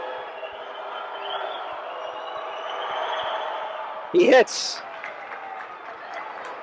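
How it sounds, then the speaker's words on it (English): Basketball arena crowd at a men's college game against New Hampshire, swelling into a short loud cheer as a free throw drops, rising above a steady crowd murmur while a commentator speaks throughout. "listen to the crowd"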